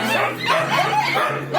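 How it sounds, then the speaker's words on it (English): Shelter dogs at feeding time, agitated over who eats first, give close, excited yips and whimpering cries in a short, continuous burst. "Now it's feeding time and all the dogs are agitated about who is going to get the food first"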